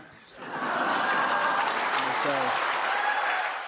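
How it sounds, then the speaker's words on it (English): An audience bursts into applause mixed with laughter after a remark by Joe Biden in a chamber, rising quickly to a sustained, loud crowd roar of clapping with faint voices woven through. "Biden drawing a little bit of applause and some laughter"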